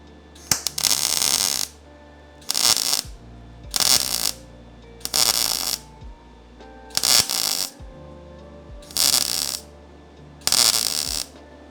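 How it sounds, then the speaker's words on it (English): Repeated welding bursts on a small Honda Fit driver-side body panel, seven loud crackling buzzes of about a second each, separated by short pauses with a low hum between them, close to the work. "So I can just go ahead and weld it."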